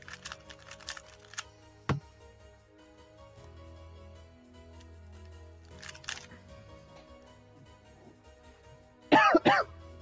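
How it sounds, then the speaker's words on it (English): A few short, sharp coughs break up an otherwise quiet room, one near the start, another midway and a louder burst of coughing near the end, with faint clicks and low hum between. "Also, I have a cough."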